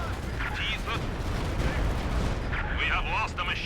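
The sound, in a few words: Stuka attacking machine gunner, Company of Heroes 2 video game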